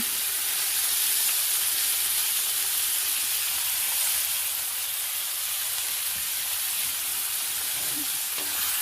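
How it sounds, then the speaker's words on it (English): Ground meat browning in a pan with a packet of taco seasoning mixed in, giving a steady close sizzle and hiss of frying with faint stirring scrapes throughout and no talking. "And just mix it up and brown it all."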